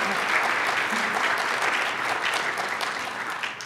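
Conference audience applauding after a session of short lightning talks at a medical data symposium, a steady, full roar of many hands clapping that holds evenly and eases slightly toward the end.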